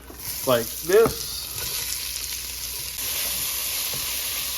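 Onions and peppers sizzle and fry in a hot pan for curry, a steady close hiss of frying under a brief spoken remark at the start.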